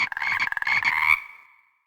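A frog croaks in a quick rattling run of pulses, then a longer trilling call that fades out, close and clear with nothing else around it.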